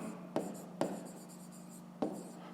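A pen writing by hand on paper, faint close scratching with three sharp taps standing out over a soft steady background.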